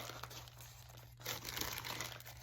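Paper napkin being handled and crinkled up close, soft crumpling and rustling that is faint at first and grows fuller and busier halfway through, with no talk.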